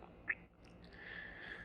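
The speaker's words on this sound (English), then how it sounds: "Hey, there's a bird." A single short quack-like bird call sounds briefly at a moderate distance over a faint steady hum, followed by a soft high whine, with no talk.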